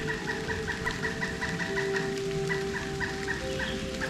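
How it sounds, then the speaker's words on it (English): A dense chorus of birds calling steadily from the surrounding wetland at Corkscrew Swamp Sanctuary as rain begins, layered tones and repeated calls overlapping with a constant hum of insects or frogs. "Birds are really active right now."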